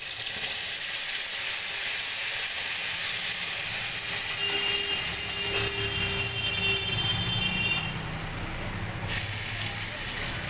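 Coriander paste hits hot oil with fenugreek seeds in a kadai, giving a steady, broad sizzle and hiss that fills the whole stretch at close range, with faint stirring underneath.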